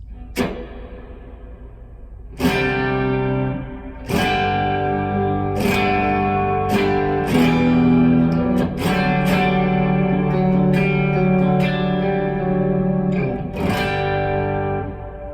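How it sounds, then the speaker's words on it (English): Electric guitar played through a pedal plate reverb with heavy modulation, shimmering chords struck every second or two, each swelling into a long, wavering wash that overlaps the next, no talking. "The next one I have is a plate with a bunch of modulation."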